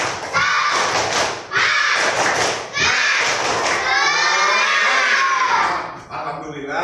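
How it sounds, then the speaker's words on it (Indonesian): Schoolchildren in an Indonesian classroom do a rhythmic spirit clap, bursts of patterned clapping mixed with their chanting voices, loud and close, with short pauses between phrases. "Kita tepuk semangat dulu ya."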